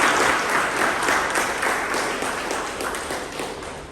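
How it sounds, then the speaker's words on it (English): Audience applause fills a Toastmasters meeting room, a dense, steady wash of many hands clapping together for the committee, sustained at an even level for several seconds. "So a big round of applause to the committee."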